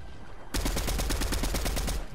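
Rapid automatic gunfire in Fortnite, a burst of evenly spaced close shots starting abruptly and rattling on for well over a second, loud and alone without talk.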